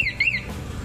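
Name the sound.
Vespa scooter remote alarm (CR7) sounding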